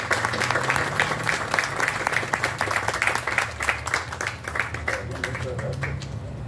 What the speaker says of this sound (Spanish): Don Piri, les pido que le demos un gran aplauso.